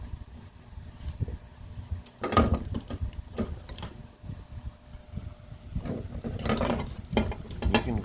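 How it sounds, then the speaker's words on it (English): Mechanical ratcheting and metallic clicking as a wrench turns the hex shaft of an in-tank fuel pump during installation of a dual in-tank pump system on a turbo Buick G-Body, close and fairly loud, in bursts with no talk. "there is a hex on the shaft here, and that's so you can put a wrench on it"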